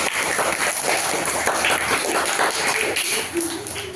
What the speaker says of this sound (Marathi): सर्वांनी जोरदार टाळ्या वाजून यांचं अभिनंदन करावं